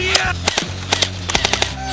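Rapid video-game gunfire as players shoot at a very tough box, bursts of sharp shots with short gaps in between, loud and close over a steady low game background.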